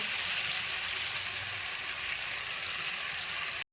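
A spice mixture hits hot oil in a pan for a vegetarian green-banana curry, giving a steady, loud, broadband sizzle with no voices before it cuts off abruptly.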